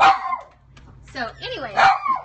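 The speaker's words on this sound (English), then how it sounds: "Sorry, that's my dog." A pet dog yelps and whimpers indoors in a few high, wavering cries, close by and fairly loud, partly overlapping a person who starts talking.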